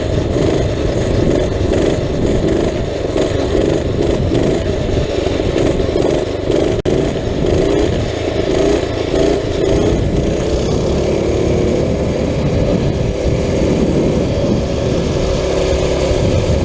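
A small mini bike engine runs steadily and loudly, close by, as a continuous rough drone with some clatter and no voices.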